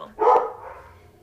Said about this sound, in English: Dogs. I don't know what they're barking at